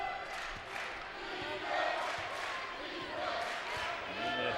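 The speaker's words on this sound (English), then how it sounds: "the Sandusky crowd chanting defense" Basketball crowd at a 2013 boys district final chanting in a steady, continuous roar with rhythmic accents, heard from within a gym under an ongoing commentator's voice.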